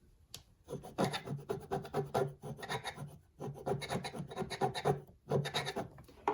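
Firm, steady rubbing of a fingertip along a pressed fabric fold on quilt binding, a dry rasping swish in repeated strokes, close and fairly loud with short pauses between bursts.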